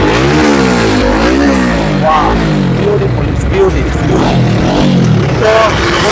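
A GSR Movistar motorcycle exhaust revs loudly and steadily up close, engine pitch rising and falling through several throttle blips, with a voice talking faintly underneath.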